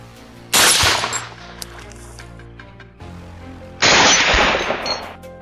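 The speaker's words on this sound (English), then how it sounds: "The sharp, thunderous reports from my rifle and my team's guns signaled the fall of more invaders, one after another." Rifle gunshots ring out during a wild boar hunt in a swamp: two loud, sharp reports about three seconds apart, each followed by a long rolling echo that fades slowly.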